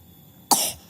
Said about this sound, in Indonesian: Barusan udah minum obat kok masih batuk.